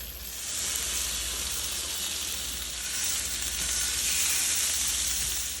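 Salmon steaks sizzling in browned butter as they are flipped, a steady loud hiss of frying that rises slightly toward the end, with no talking.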